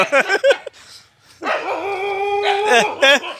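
A dog in a Bangladeshi village gives a few sharp close barks, then a long whining howl, then more barks, loud and near.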